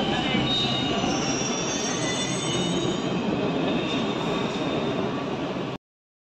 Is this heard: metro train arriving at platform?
yes